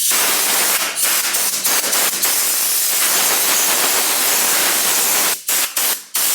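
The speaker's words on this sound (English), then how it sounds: "So the procedure here is to get your blow nozzle" Compressed-air blow nozzle blasting dirt off a car part during a steering rack boot replacement, a loud steady hiss that cuts off with a few short bursts near the end.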